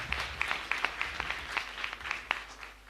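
A church congregation applauds together at the close of a Mass during a novena to Mary Help of Christians in a chapel, steady dense clapping with sharper individual claps popping out across the whole stretch.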